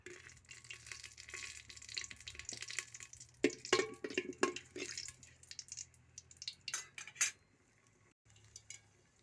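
Dried red chilies fry in refined oil in a cooking pot, crackling in irregular bursts amid close metallic clatter of a utensil against the pan, then fading to near quiet.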